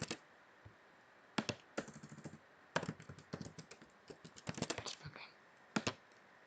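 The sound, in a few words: typing on a computer keyboard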